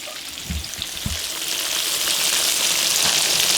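Thin catfish fillets frying in hot oil, a steady broadband sizzle that builds slightly over a few seconds, with a couple of low thumps from the pan or utensil early on.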